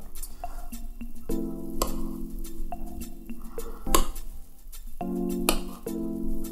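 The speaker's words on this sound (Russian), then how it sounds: "Мы сейчас его перемешаем." Plov is stirred in a Zepter pot, with repeated metallic scrapes and clinks of a utensil against the pot over a soft background sizzle, close and fairly clear.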